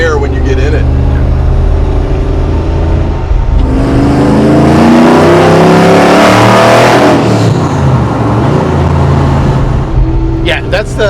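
A 1000 HP supercharged patina Chevy C10 truck engine revs hard, rising to a loud sustained roar and falling away, close and dominant, with brief voices at the start and end.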